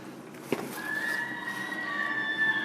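During a hoof-shoeing session, a horse with a very narrow foot lets out a long, fairly loud whinny that starts with a sharp onset and then trails on for about two seconds, with no talking over it.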